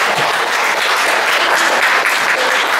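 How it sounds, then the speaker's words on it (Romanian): A seated audience breaks into loud, dense applause to welcome a speaker, a continuous roar of many hands clapping close by with no pauses. "Să o aplaudăm"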